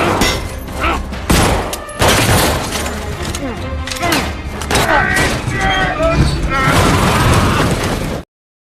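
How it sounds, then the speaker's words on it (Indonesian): A film gunfire exchange with repeated sharp bursts and booms, mixed with scattered pops and mechanical clatter, loud and dense throughout. "Alhasil tembak-tembakan antara Paul dan pelaku pun tidak bisa terhindar."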